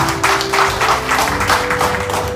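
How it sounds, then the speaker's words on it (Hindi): Audience applause at a corporate motivational session in honour of the company's MD, DGM and RM: steady, dense clapping from a crowd filling the whole moment at close range, with no voices. "हमारे एमडी सर के लिए जोरदार तालियां, हमारे डीजीएम सर के लिए जोरदार तालियां और आरएम सर के लिए जोरदार तालियां"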